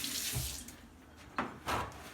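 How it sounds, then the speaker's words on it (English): Tap water runs into a kitchen sink while hands are rinsed, a close, steady splashing stream with a few louder splashes toward the end. "let me rinse my hands off real quick"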